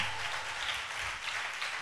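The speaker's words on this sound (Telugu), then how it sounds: "కొట్టి చప్పట్లు గట్టిగా." Audience applause at a Telugu Christian gathering during a special sermon, a steady dense wash of clapping filling the space without pause.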